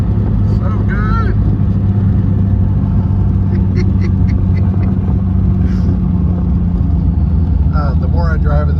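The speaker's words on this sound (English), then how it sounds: "that little rumble that Corvair motor makes back behind you" A Corvair engine in a barn-find Belly Tanker jet mobile car drones with a steady, low rumble while driving, and a voice speaks briefly over it.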